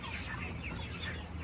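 Chickens cluck and murmur close by in a farm coop, soft overlapping fowl calls over a steady background hum, with no talking.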